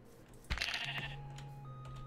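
A single Minecraft sheep lets out a short, nasal bleat close by, followed by faint game ambience and a soft tonal hum.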